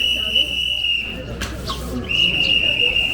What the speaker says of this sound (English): Someone's blowing a whistle for something,